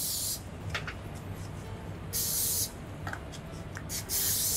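Cooking grease sprayed from an aerosol can onto aluminium cake moulds, in short hissing bursts: one at the start, a longer one around the middle, and two more near the end, close and clear.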